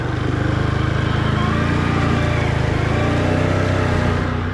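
A Can-Am off-roader on Cryptid mud tires driving slowly through mud, its engine a loud, steady close drone with a rough rumbling texture, held throughout with no talk.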